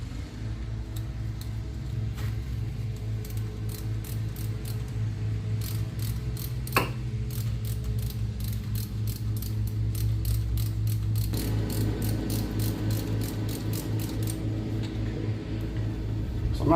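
Wheel hub bolts are started by hand on a 2004 Mini Cooper S R53, with long runs of rapid ratchet clicks over a steady low background rumble, fairly close and moderately loud.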